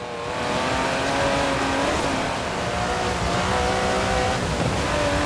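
An Aston Martin DB11 with a 5.2-litre twin-turbo V12 in Forza Horizon 4 drones loudly and steadily under acceleration, its engine note rising gradually over several seconds.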